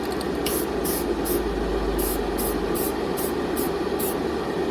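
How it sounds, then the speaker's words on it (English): A Duplicolor 1K gloss clear coat aerosol can hisses in a series of short, evenly spaced bursts, loud and close, over a constant background drone. "It's a light little spray."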